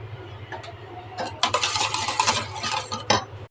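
A spoon scrapes and clinks around a bowl of buttermilk mixed with salt and turmeric, with a few sharp knocks, then a steady run of close stirring that ends in a final clink.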